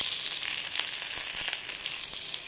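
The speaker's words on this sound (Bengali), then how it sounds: "টমেটোটা ভালো করে ভেজে ফুটছি।" Tomato sizzles and fries in a pan with onion and garlic for a surpai fish curry with potato and onion stalks, a steady crackling hiss close by with no voices.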